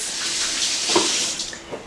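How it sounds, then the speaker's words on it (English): Tap water runs steadily into a kitchen sink while hands are washed during taco prep, a broad close hiss with brief splashy shifts as the hands move under the stream. "let me wash my hands"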